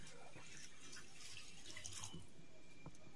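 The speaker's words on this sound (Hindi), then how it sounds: "अब इसमें डालेंगे कोकोनट मिल्क" Homemade coconut milk pours into a pan of Bengali-style prawn malai curry, a steady liquid splashing and trickling that runs the full few seconds close up, with a couple of small drips near the end.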